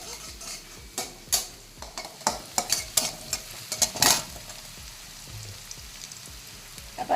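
Green chilies and onions being heated in a pan, with a soft background sizzle broken by a run of sharp scraping and stirring clatters, clustered in the first half and fading toward the end.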